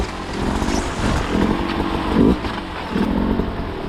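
Beta 200 Racing off-road motorcycle engine idling and revving nearby in bursts, a rough two-stroke drone rising and falling over several seconds.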